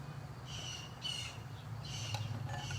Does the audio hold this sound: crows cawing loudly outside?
yes